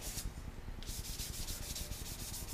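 A wooden Masutani spoon being sanded with 600 grit sandpaper, a steady run of close, rhythmic rubbing strokes after a brief pause.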